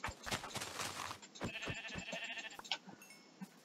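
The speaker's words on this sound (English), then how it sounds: "Oh, yes, black sheep." Sheep bleating in Minecraft, several short bleats and animal calls over background game sounds, fairly close and moderately loud, with no voices.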